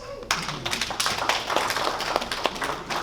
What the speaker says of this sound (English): Hands of applause.